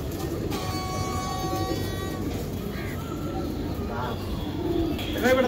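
Roller pigeons coo in low murmuring bursts amid a busy background, with a horn-like tone early on and people talking faintly.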